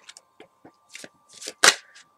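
A deck of tarot cards is shuffled close by in short, crisp riffling bursts separated by quiet gaps, building to one louder flurry before trailing off.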